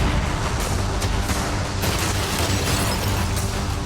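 Heavy cannon fire in a video game, dense booming blasts aimed at a yacht rolling on continuously for a few seconds, loud and close with no talk over it.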